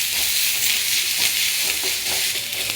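Mustard seeds spluttering in hot oil while tempering in a pan: a loud, close, continuous hissing sizzle dotted with quick crackling pops.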